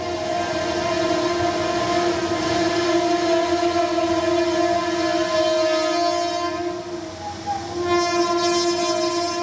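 A train horn blares in long, steady, loud tones while the rumble of rail cars rolls along underneath as the train crosses flooded tracks in Argentina, the horn dipping briefly before sounding again.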